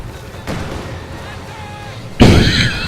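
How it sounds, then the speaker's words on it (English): A T-70 tank fires its 45mm gun and machine gun in a 1v1 strategy video game match, with two heavy blasts spaced about two seconds apart under a commentator's voice. "45mm gun, machine gun firing away as well."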